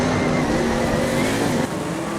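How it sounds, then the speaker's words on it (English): Dirt speedway race cars roar around the track, a loud, steady engine drone with a slight pitch shift as the pack passes, with no commentary audible. "How good is Zane Dykstra going in the 38 car?"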